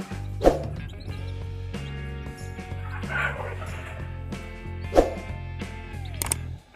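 A brood of about five newly hatched chicks makes scattered bird calls, some short and piercing, over a steady low hum.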